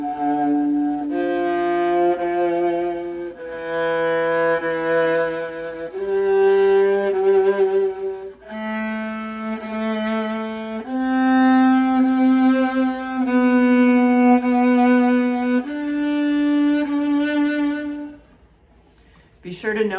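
A bowed viola etude played as a tone exercise: sustained, resonant notes that change pitch every second or two in a slow, even line, close and clear, fading briefly near the end.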